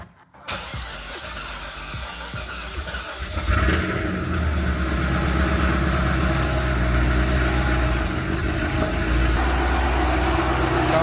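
After a repair, a blown-up Corvette fires up about three seconds in following a few quiet clicks, then settles into a steady, close, rumbling idle that continues to the end.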